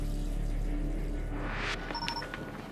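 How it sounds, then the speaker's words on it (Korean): Water runs steadily from a tap into a sink in a quiet home at night, then the flow shifts and splashes near the end, close by with no voices. "그러던 어느 날 또다시 들려오는 물소리."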